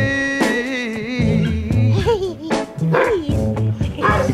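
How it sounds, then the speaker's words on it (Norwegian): A young puppy barks and yips in quick high bursts in a setting tied to starting out in dog sledding, with people talking and music playing close by. "Søt liten valp du har."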